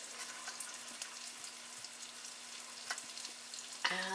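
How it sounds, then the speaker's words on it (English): Jalapeno poppers frying in hot oil give a steady, moderately faint sizzle with scattered small pops and crackles, ending with a brief brighter clatter. "And put them in and fry them up."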